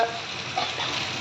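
Potatoes frying and being stirred in a pan, a steady close sizzle with light scraping strokes running throughout a short stretch.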